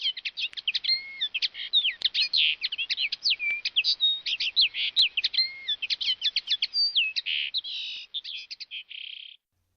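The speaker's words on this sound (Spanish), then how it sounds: "En realidad era un pardillo que cantaba ante su ventana." A linnet sings just outside a window, a rapid, continuous run of bright chirps and trills close by that ends in a held buzzy note, clear against otherwise silent surroundings.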